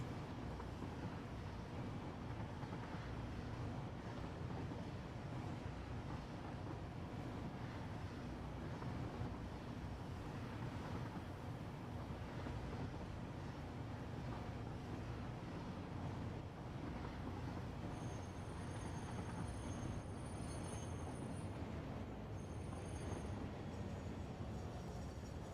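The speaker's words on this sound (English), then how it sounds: "We made a nice train spiral, and this train is cooking." In the factory-building video game Satisfactory, a train rolls down a spiral track, its low continuous rumble and rushing noise steady and fairly faint for the whole stretch, with no talking.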